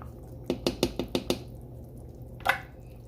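Cooked noodles are knocked off a spatula into a pot of fideo soup, giving five quick close taps in a row and then a single louder scrape a moment later, with no talking.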